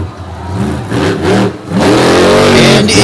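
Monster truck Hooked revving hard at a beach wheelie competition, its engine surging and dipping in two quick bursts before a long, loud sustained roar, close and dominant.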